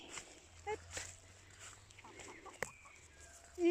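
Brahma chickens in an ornamental poultry coop give a few soft, scattered clucks at close range, with some low background hum and a brief sharper knock near the end.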